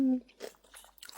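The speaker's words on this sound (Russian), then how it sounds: "Вот, кстати, сельдерей. Слышно, как хрустит?" Crisp celery snaps and crunches in a single brief, close bite, faint and short, with a voice speaking around it.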